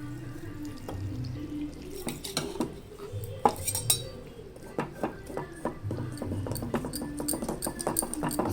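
Ginger garlic paste is mixed with water in a bowl, and clinks and taps of a utensil against the dish come in a loose, uneven rhythm, close by, along with faint wet stirring.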